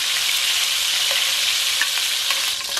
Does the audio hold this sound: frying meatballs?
yes